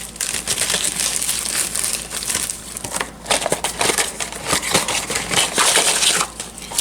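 A medicine package's label is torn off, a close crinkling, crushing rustle of paper and cardboard with uneven bursts and short pauses.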